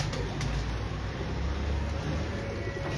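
Soft pigeon cooing from a fancy breed kept by a hobbyist in Lahore, low and steady against a continuous outdoor background hum.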